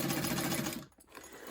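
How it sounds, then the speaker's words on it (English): A sewing machine stitches a tote bag in a close, steady rapid whir. It pauses briefly near the end, then resumes. "Just making sure that I'm not sewing through the other side of the bag."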